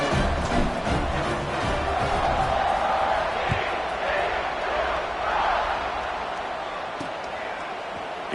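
A big stadium crowd roars and cheers continuously at a football game against Utah, a dense wash of voices with a commentator talking over it.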